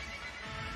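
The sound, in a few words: horses neighing at driving competition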